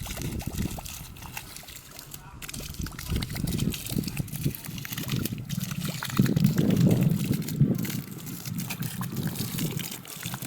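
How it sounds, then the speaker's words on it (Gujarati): Water splashes and trickles as it is sprinkled over a dusty yard, with irregular pouring and dribbling bursts, nearby and moderately loud, swelling toward the middle. "ફરિયામાં ધૂળ ઉડે તો જો પાણી છાંટી દઈ"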